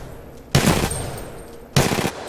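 Weapon fire from the Titanfall 2 game tutorial: two loud close bursts of rapid automatic gunfire, each about a third of a second, followed by ringing tails.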